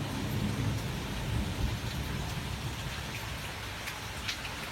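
Heavy rain pours steadily in a thunderstorm, a dense, even hiss with a low rumble of thunder underneath, continuous and fairly loud with no talking.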